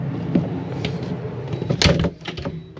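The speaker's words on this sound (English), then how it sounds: "Close your exterior door." Exterior entry door of a Jayco Greyhawk 31FP motorhome swinging shut, a solid latch-and-thump close standing out near the middle, with light handling clatter before and after.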